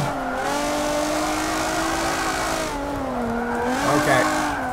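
Nissan G35 drift build in Forza 7 on Suzuka, a steady loud engine drone that rises and falls with throttle, tires squealing as the car slides through corners.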